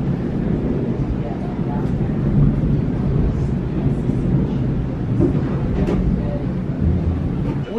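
Thunder rumbles in low, rolling waves during a storm at sea near Castaway Cay island, with wind buffeting the microphone throughout.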